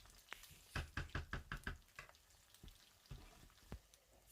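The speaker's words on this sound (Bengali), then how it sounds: "ও মাছ বিরান মোটামুটি হয়ে গেছে" Fish fries in a pan for fish curry under a soft sizzle, while a quick burst of about seven close, hard knocks from a utensil on the pan is followed by a few sparser taps.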